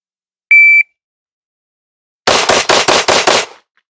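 A shot timer gives one sharp electronic beep, then after a short pause a Canik Mete MC9 Prime pistol fires six rapid, evenly spaced loud shots, followed by silence.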